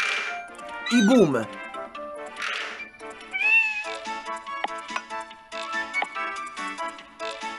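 A cat meows in a Gameloft mobile video game, with a sharp rising-and-falling yowl early on, then further game tones and chimes as a person talks over the play.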